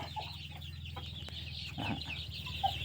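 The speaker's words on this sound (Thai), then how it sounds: "ลูกไก่ก็จะประมาณนี้นะครับที่เหลือนะครับ" Young Black Dragon and Yiersing chickens, two to four months old, cluck in short repeated bursts close by, with a steady low hum underneath.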